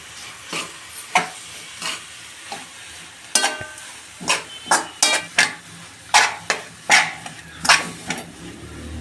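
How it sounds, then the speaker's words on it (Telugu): A ladle stirs puffed rice with salt in a frying pan, giving a series of quick, close scraping and rustling strokes in an irregular rhythm, with no talking. "ఒకసారి గరిటెతో అంతా బాగా మిక్స్ అయిపోయే విధంగా కలుపుకుందాం."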